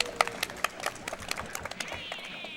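Audience at a speedrun event clapping in a scattered patter of individual claps, moderately close, fading out with a tonal electronic sound near the end.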